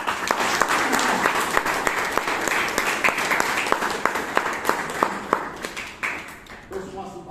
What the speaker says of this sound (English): Give us a big round of applause.